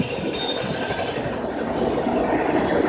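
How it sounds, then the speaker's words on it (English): A long train rolls steadily past up close, its rail cars giving a continuous loud rumble with faint wheel squeal, no voices over it. "This train is pretty long."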